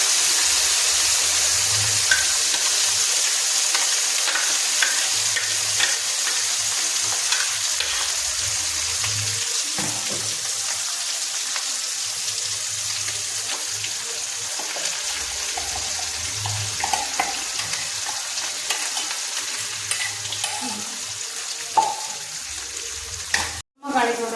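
Tomatoes fry in hot oil for a tomato thokku, giving a steady broadband sizzle with occasional stirring scrapes and soft clinks, close and continuous throughout, with no talk.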